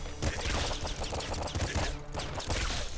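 Bandits open fire in the video game Nuclear Throne, a dense, continuous fusillade of rapid overlapping gunshots that crackles loudly for the full few seconds without pause.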